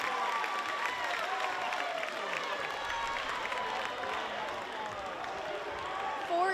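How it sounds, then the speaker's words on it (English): A basketball crowd at a Valdosta State vs Montevallo D2 game cheers and claps in a steady, energetic roar, with a commentator talking over it. "You can hear this crowd, and they are amped."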